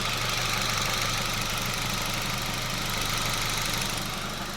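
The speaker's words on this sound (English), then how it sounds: "that is one quiet engine. One very quiet engine." Idle of a GWM Haval Jolion petrol engine, heard close up as a steady, low, quiet hum with a soft even ticking and no speech.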